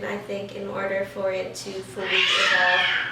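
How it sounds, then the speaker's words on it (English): Cat meowing indoors, a couple of mews mixed in with a person talking, followed by a longer, louder cry near the end. "Sorry, that was my cat."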